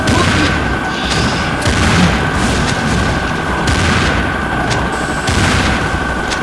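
Flying bombs blasting in Serious Sam 2 co-op, a loud, continuous barrage of booming detonations and gunfire-like cracks layered over each other for several seconds, with a steady tone running underneath.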